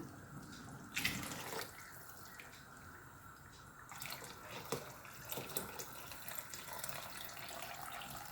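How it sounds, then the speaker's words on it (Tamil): Pea-boiled cooking water poured into a pot of curry for Burmese-style babiyo peas rice, a soft trickling splash with brief louder bursts near the start and toward the end, heard close with no talk. "இந்த வேக வச்ச தண்ணி கொஞ்சம் இருக்குது அதை ஊற்றிக்கிடலாம்"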